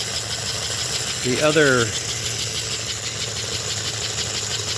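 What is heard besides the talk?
model train locomotive engine running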